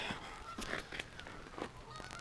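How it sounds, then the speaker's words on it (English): Ducks flying around overhead let out faint, distant honking calls, scattered and repeated against soft outdoor background noise. "Got some ducks flying around."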